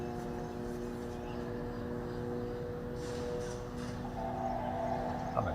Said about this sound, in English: What you're hearing right now is the drone.